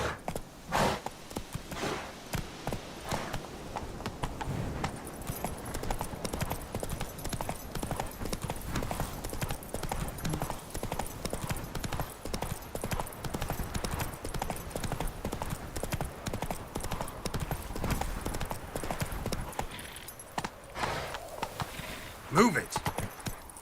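Horse hooves clip-clop steadily at a walking-to-trotting rhythm through The Witcher 3's game world, continuous and fairly close, with game speech and ambient sounds mixed over the hoofbeats.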